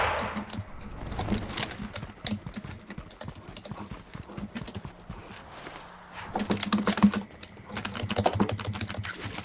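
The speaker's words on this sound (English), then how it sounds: "Clicky keyboard." A clicky computer keyboard clatters in fast, steady bursts of keystrokes during a Fortnite gaming session, loud and close, with a brief pause before typing picks up again.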